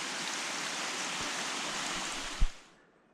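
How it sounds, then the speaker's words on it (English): Glacier snowmelt water rushing beside Mount Hood's Timberline Trail, a steady broadband stream roar close by, with a couple of soft thumps near the end before it cuts away. "So most of the year you'll find water running as you do this hike on the Timberline Trail around the mountain."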